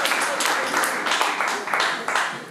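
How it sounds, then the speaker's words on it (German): An audience applauds, dense steady clapping in several swelling bursts, close and lively with no talk over it. "Großen Applaus für dich."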